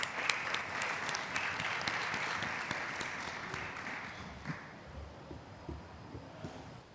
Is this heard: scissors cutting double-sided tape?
no